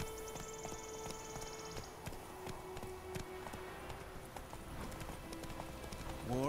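Horse hooves clip-clop in a steady trotting rhythm in The Witcher 3, close and moderately loud over a bed of game music and ambience, with no talking.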